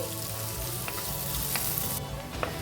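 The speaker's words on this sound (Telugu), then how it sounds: "ఇప్పుడు ఇందులోకి సన్నగా కట్ చేసుకున్న ఉల్లిపాయలు వేసుకొని ఫ్రై చేసుకోవాలి" Thinly sliced onions fry in oil in a curry pan, a steady close sizzle running through the whole stretch with small crackles and a few spoon scrapes, no voices.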